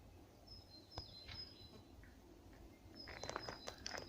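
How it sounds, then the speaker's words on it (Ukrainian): Small birds chirp and whistle in a woodland grove on a fine day. Their short, high calls come in scattered bursts, fairly faint, with light rustling steps nearby. "Дуже класна погода, співають пташечки."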